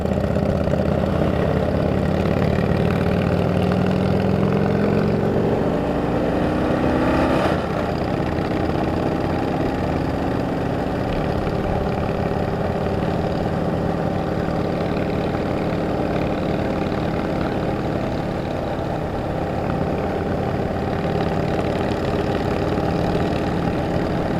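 A vehicle engine runs steadily while being shifted into gear for a climb uphill, with a brief rise in pitch partway through before it settles back to a constant, loud, close drone with no talking.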